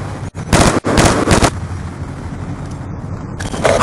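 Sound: hostile care package helicopter arriving in video game Black Ops 2

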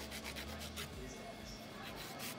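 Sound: nail file filing gel nails

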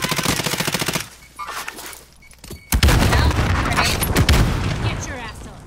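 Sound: gunfire in a shooting game

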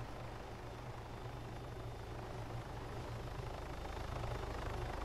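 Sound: helicopter in video game roleplay

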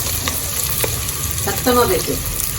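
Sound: sautéing chopped onions in oil for biryani

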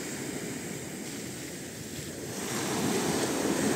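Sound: wind

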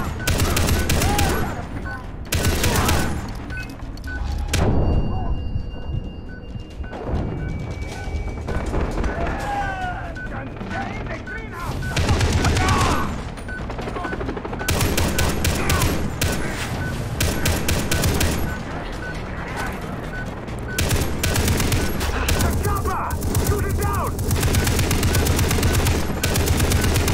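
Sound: turret machine gun fire in the video game Far Cry 3

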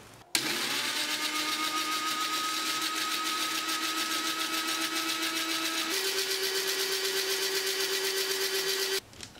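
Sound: blender mixing sugar and oil for date cake

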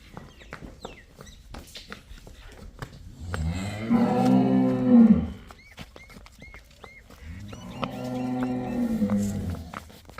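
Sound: buffalo and cow lowing on a farm

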